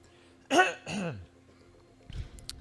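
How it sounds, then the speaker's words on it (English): Two close, harsh throat-clearing bursts in quick succession, followed by a short rustling noise in an otherwise quiet room. "I'll try not to clear my throat in the mic."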